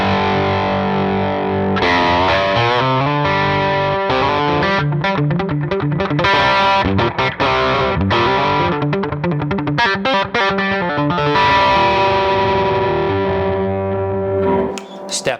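A distorted electric guitar plays a busy riff with effects, loud and continuous, ending with a sustained note.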